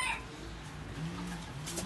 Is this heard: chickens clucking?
yes